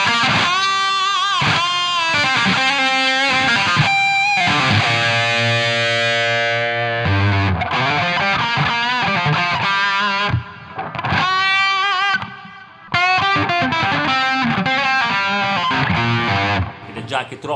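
A Gibson 335 electric guitar with a Burstbucker pickup played through distortion with delay and reverb added, loud close riffs and ringing held chords trailing into echoes, with brief gaps between phrases.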